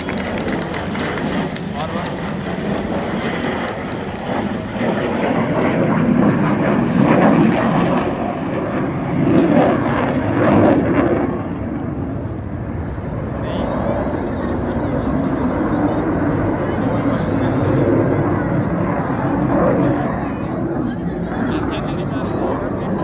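Aircraft engines of the SOLOTURK aerobatic display team roar steadily throughout a seaside air show at Maltepe coastal park, a loud continuous drone swelling and easing as the planes pass, with spectators talking over it.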